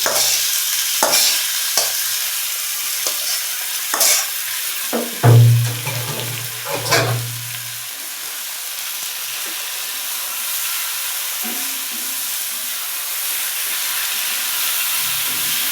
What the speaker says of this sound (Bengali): শাক ভাজি করতেছি